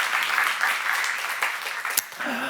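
A church seminar congregation applauding, steady clapping that carries on throughout, with a brief sharp clack near the end.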